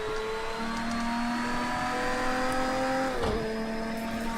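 A Lamborghini Diablo GTO accelerates hard out of a corner on a snowy Zolder circuit, its engine climbing in a steady rising drone with a brief dip at a gear change near the end.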